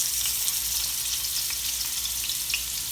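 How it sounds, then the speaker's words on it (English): Pieces of beef sear in a very hot pot for Haitian-style jute leaf stew, giving a loud, constant, close-up sizzle with small crackles and pops scattered through it. "I want to make sure we get a nice sear on our meat."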